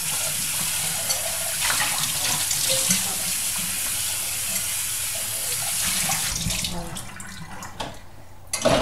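Whey drains from fresh sheep's milk cheese in a steady, close trickle of running liquid that continues for several seconds before thinning out.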